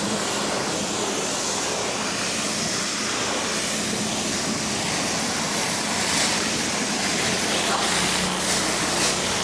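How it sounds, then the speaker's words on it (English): Pressure-washer spray blasting dirt off an old Toyota Camry, a steady loud broadband hiss of water that holds for the full stretch with small surges, no talking. "So I want to show you what happens when I just try to spray this dirt"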